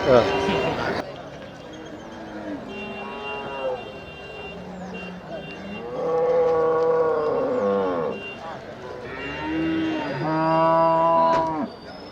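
Cattle at the Melapalayam cattle market moo repeatedly, with several long, loud calls rising over a busy crowd of voices and market chatter.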